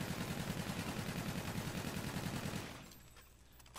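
MV4 gun in Call of Duty: Infinite Warfare firing a steady, rapid automatic burst up close for about two and a half seconds, then cutting off to a quiet tail.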